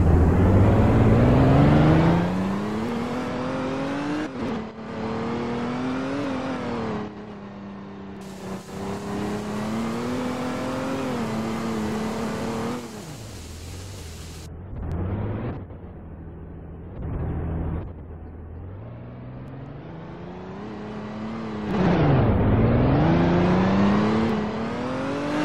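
A car engine drones and revs steadily while driving around in the Roblox video game, pitch rising and falling with acceleration, broken by abrupt cuts and short gaps, with no talk over it.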